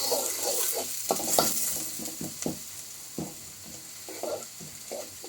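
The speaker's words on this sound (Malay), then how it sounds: "Tumis." Spices with shallot, lemongrass and ginger sauté in a frying pan for potato-anchovy curry puff filling, a constant sizzle broken by repeated close scrapes and clanks of the spatula stirring.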